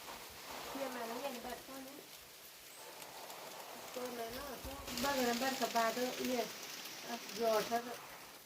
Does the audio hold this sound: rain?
yes